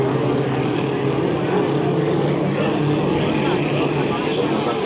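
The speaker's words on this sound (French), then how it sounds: "Hélicoptère qui appartient à David Métivier." A helicopter drones over a powerboat race at Valleyfield as a continuous, rumbling engine roar mixed with boat motors, steady and fairly loud, with a commentator talking over it.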